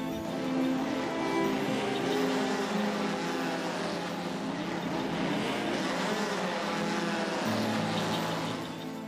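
Several race cars roar together at the start of a race at the Sachsenring circuit, a dense, loud, sustained engine din with rising pitch and no let-up.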